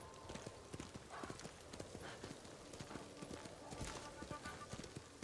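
Galloping horse in the video game Ghost of Tsushima, quiet rhythmic hoofbeats pounding steadily with a brief whinny partway through, over faint ambient game sound.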